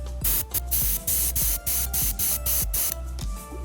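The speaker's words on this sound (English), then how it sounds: "I spray all the parts with this black" Black spray primer hisses from an aerosol can onto 3D printed jewellery parts in a series of short, loud bursts with brief pauses between them, close to the microphone.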